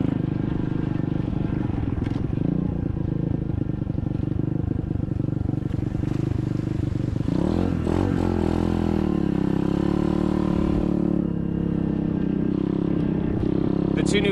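An SSR 125cc dirt bike is ridden outdoors, its engine droning loud and close throughout and rising in pitch as it revs partway through.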